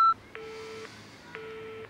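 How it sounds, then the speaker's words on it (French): An answering machine in a French TV drama gives two sustained electronic beeps of equal length, separated by a brief gap, over faint background hiss. "vous pouvez nous laisser un message après le bip"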